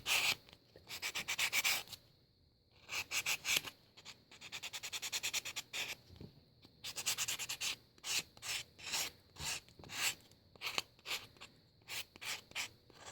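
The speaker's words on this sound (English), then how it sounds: "now I'm going to go in with the metal reliefing block and remove some patina from the raised area" A heavy-grit metal reliefing block rubs over raised brass to strip patina, making quiet, close rasping strokes in short bursts with brief pauses between them and no talking.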